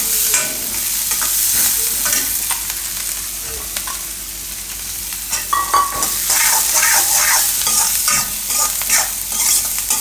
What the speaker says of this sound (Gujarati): થોડીક વાર ડુંગળી પાકવા દેવું આમાં આપણે